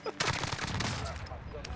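Rapid automatic gunfire from several weapons in the video game Call of Duty: Warzone, dense, loud overlapping bursts that run unbroken through the whole moment, with a voice faintly underneath.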